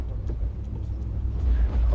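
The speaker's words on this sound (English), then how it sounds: "Another car is about to pull up." A car idles and rumbles nearby as it pulls up, a steady low engine drone that swells slightly toward the end, with no talking over it.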